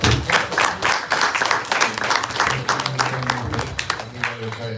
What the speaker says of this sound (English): Let's do a bigger round of applause.